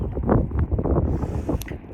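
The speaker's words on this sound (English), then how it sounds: "So it might be a little windy." Gusty wind buffeting the microphone with low rumbling thumps and fluttering bursts, loud and close, no voices.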